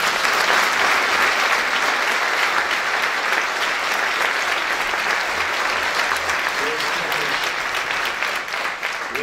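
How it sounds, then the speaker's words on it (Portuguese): A crowd applauding loudly and steadily, dense clapping that holds for the whole stretch and fades slightly at the end. "uma salva de palmas, uma enorme salva de palmas ao Dr. Francisco Santoy."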